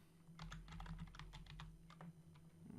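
Quick, light keystrokes patter on a computer keyboard while entering an AutoCAD command, a short, faint burst of typing over a low electrical hum with no talking.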